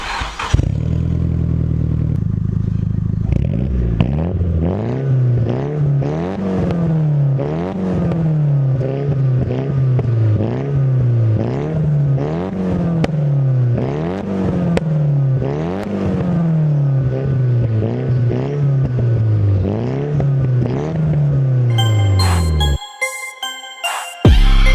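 Nissan Silvia S15 Spec R warming up, a close, loud engine and exhaust idling then revved repeatedly in a regular rising-and-falling pattern, ending with a brief cutoff.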